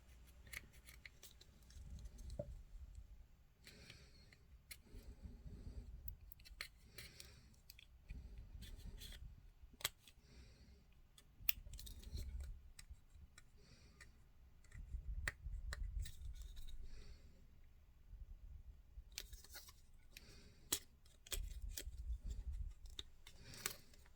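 Sharp clippers snip Land Raider Spartan plastic model kit parts off their sprues, giving quiet, close, irregular clicks spaced out over a low background rustle.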